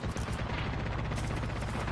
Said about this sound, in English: That shit sounds like a whole minigun